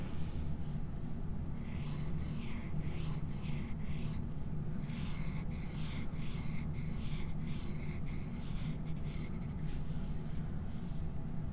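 Markers squeak and rub across paper while folk art flowers are drawn, a close, continuous scratchy scribbling in short repeated strokes over a faint background hum.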